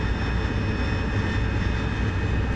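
Steady, loud jet roar from an AV-8B Harrier during a night takeoff in the DCS flight simulator, a constant broad rumble with a faint high whine and no other sounds.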